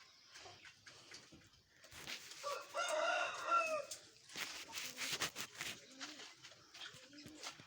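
Aseel chickens cluck and a rooster crows faintly in the background, scattered bird calls over a quiet outdoor hum.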